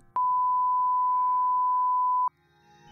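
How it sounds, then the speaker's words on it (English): A pure sine wave test tone holds one steady, clean pitch for about two seconds, starting and stopping abruptly with a faint click at each end against near silence. "Let's talk about the simplest signal possible,"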